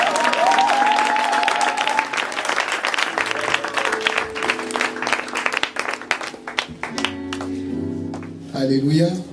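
A church congregation applauds and cheers in praise of Jesus, steady loud clapping mixed with voices and music throughout, ending with a sung or shouted burst.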